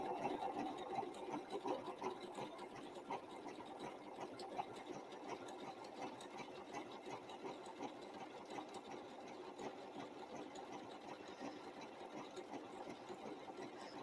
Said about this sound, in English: I'm keeping the edge of the presser foot right along where I cut.